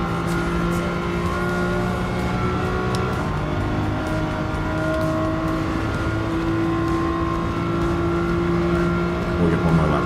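A BMW race car in Gran Turismo 7 drones steadily at high revs for the whole stretch, its engine tone holding near and loud with slight pitch shifts as it accelerates, plus a brief scrub of tire noise near the end.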